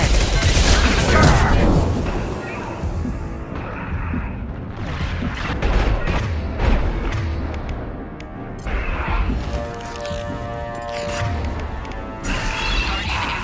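A heavy weapon fires in Mass Effect 2, loud crashing volleys and rapid bursts landing amid a dense sci-fi battle din, easing off in the middle before more impacts and tonal electronic effects return.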